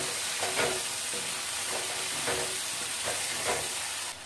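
Potatoes, prawns and green chillies frying in a pan for hing jhinge, a dense, continuous loud sizzle with a few soft stirring scrapes, close up and without talking.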